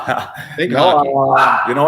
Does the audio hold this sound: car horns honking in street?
no